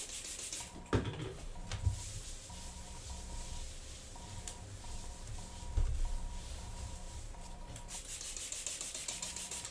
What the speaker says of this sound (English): You lightly rub it in with a clean cloth.